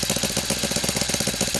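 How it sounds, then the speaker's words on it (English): A brand-new Saito FA90T model four-stroke engine with CDI ignition, running on gasoline, idling close by with a steady rapid chuffing pulse. "Brand new engine, just running in. So I'm not rubbing it too much. I just want to let it idle a bit."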